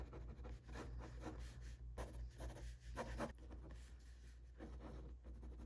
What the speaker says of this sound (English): I'm gonna draw a really bad BoJack here.